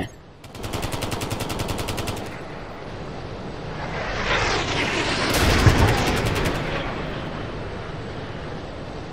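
Rapid automatic gunfire from an MK11 rifle in the video game Ghost Recon Future Soldier, loud bursts of shots with aircraft-like engine roar rising in the middle, no talking.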